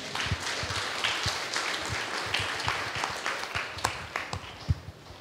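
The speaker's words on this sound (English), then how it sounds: "Let's welcome them with a round of applause." Applause from a live audience welcoming performers at a celebration show, scattered individual claps and a light, uneven patter, fairly quiet and a bit distant, lasting a few seconds.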